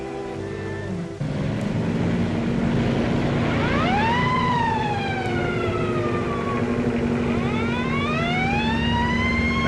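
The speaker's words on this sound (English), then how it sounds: "There's a motorcycle cop following us." A police motorcycle siren wails behind a car in a 1940 film, rising and falling in repeated sweeping tones over a steady engine rumble, loud and close, with no voices.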